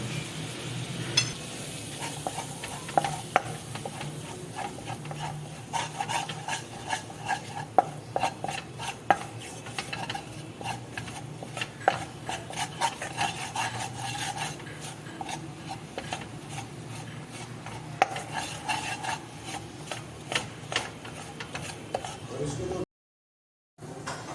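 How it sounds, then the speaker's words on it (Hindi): Flour roasting in melted butter over low heat for white sauce: a soft, continuous sizzle with repeated scraping and rubbing strokes of a spatula across the pan, and a voice speaking at times. "मैं इसमें मैदा डाल दूँ और मैदे को भून लेंगे इसके साथ। हल्की आंच पर भूनना है हमें बिल्कुल।"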